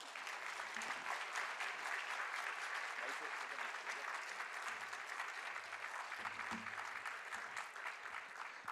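A church congregation applauds a speaker at a Sunday worship service in Busan, dense continuous clapping that holds steady and evenly loud throughout, filling the room without pause.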